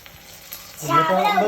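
Fish roasting in a covered pan, sizzling and crackling softly at first, then swelling into a louder, steady fry close by.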